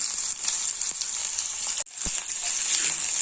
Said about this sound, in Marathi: याला थोडंसं ब्राऊन होईपर्यंत या तेलामध्ये फ्राय करून घेऊया